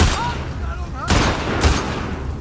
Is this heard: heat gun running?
no